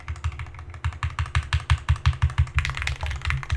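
Rapid repeated clacks of the escape key on a J80 keyboard ring out close and loud, a typewriter-like tapping rhythm with a denser flurry near the end, no voices.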